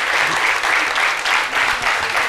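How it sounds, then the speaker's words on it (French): A studio audience on a French-language daytime talk show claps steadily for a guest, the queen mother, a dense, even wash of applause with no voices over it. "Tonnerre d'applaudissements pour Mme Wawali King, la reine-mère"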